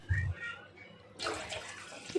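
Water is poured into a pot for cooking semolina, starting with a brief low splash and then a brighter, steady rushing pour that stays close and fairly faint, with no talk.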